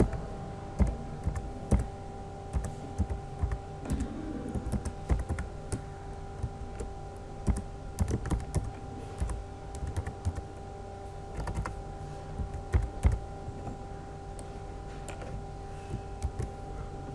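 Fingers tap an email address into a computer keyboard in a quiet room. The keystrokes come in uneven bursts of sharp clicks with short pauses between them.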